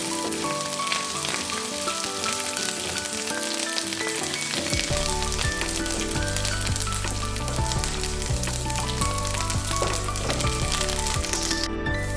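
Garlic, dried red chillies and curry leaves fry in hot oil for tomato pickle, a loud, dense, continuous crackling sizzle close by that fills the whole stretch.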